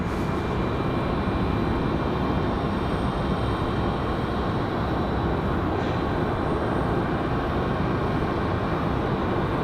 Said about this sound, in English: Got a Southwest on the way out.